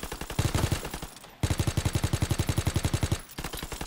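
Rapid automatic gunfire in the World War II shooter Call of Duty WW2, loud and close, in two long evenly spaced bursts separated by a brief pause.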